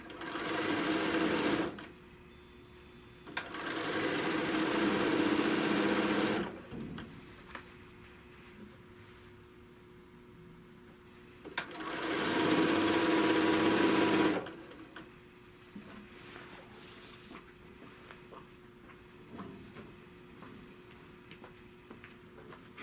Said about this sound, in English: we're just going to stitch around